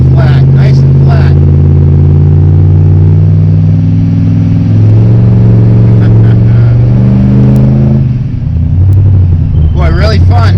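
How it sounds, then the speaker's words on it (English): A supercharged Ford SVT Lightning pickup drives through hairpin turns, its engine droning loud and steady with a rising and falling whine as it accelerates, while someone talks over it. "I love that turbo whine."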